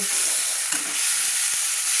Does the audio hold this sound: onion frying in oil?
yes